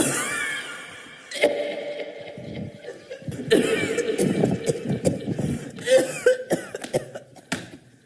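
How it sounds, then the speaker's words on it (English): Several rough coughs and throat-clearing noises scattered through the clip, fairly close, with some murmuring voices in between. "That cough is still hanging around."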